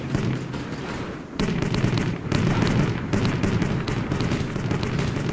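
Repeated cannon fire in a World War Armies battle, loud thudding booms in quick succession with short gaps, layered over rumbling battlefield noise.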